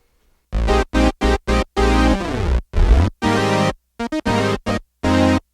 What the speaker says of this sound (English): Juno chorus.